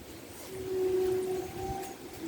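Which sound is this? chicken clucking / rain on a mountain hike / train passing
train passing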